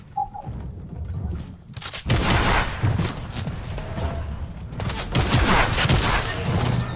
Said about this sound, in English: time to pull out my shotgun and miss all my shots!